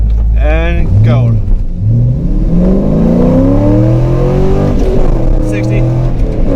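A 20-year-old Corvette accelerates hard from a stop on a straight road, its engine note climbing steadily toward redline, loud and close from inside the car, with a voice speaking over it.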